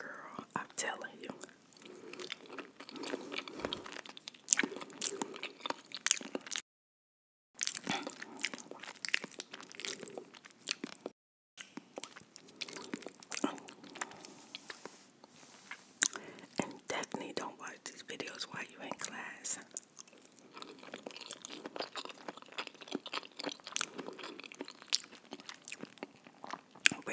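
Close-up chewing of four cheese Alfredo pasta, with wet, sticky mouth sounds, soft crunches and smacks continuing steadily at low volume, broken by two brief silent gaps and accompanied by faint whispering.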